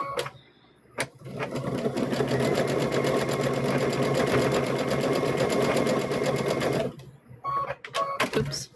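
A sewing machine runs a steady, continuous stitch across the top of a stuffed bear for about six seconds, loud and close, with brief handling clicks before and after.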